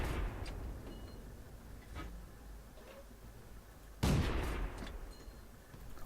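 A World of Tanks match with the M22 Locust light tank: one sharp, loud cannon shot stands out over a low rumbling background, with a few fainter, more distant reports before it.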